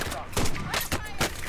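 Rapid bursts of gunfire in the video game Call of Duty Warzone, several sharp shots in quick succession at close range, loud and crackling throughout.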